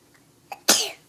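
A single close sneeze, a small intake catch followed by a loud burst that trails off quickly.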